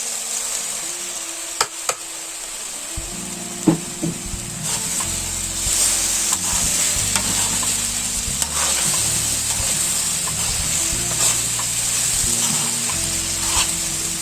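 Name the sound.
okra being stir-fried in masala gravy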